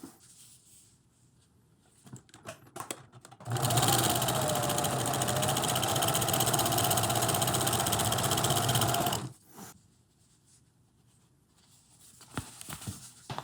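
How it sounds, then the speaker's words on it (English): A regular sewing machine runs a long stitch along a hat brim for a lightweight trail cap, making a steady fast mechanical whir for about six seconds, with quieter handling clicks and rustles before and after. "I sewed that brim with a regular sewing machine and just using a magnetic seam guide"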